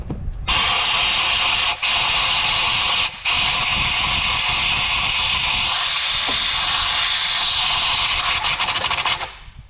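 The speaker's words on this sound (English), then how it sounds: "I want to blow this hole out again because we've added more shavings by doing the tapping" Compressed air blower blasting tapping shavings out of a cylinder head bolt hole on a Honda engine, a loud continuous hiss lasting several seconds with two brief dropouts before cutting off.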